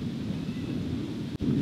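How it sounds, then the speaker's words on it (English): Strong wind blows outdoors, buffeting the microphone as a steady low roar with a brief sharp dropout near the end. "Man, it's windy out."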